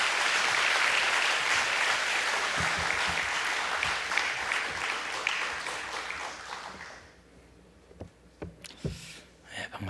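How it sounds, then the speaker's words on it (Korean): An audience in a church prayer meeting claps for a missionary, dense, loud applause that holds for about seven seconds, then fades out into scattered footsteps and knocks. "박수하겠습니다"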